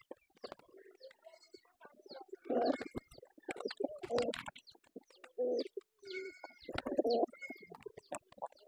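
Pigeons in a pigeon loft give several low, throaty coos in uneven bursts. They are close and fairly clear, with faint rustling and chirps between the calls.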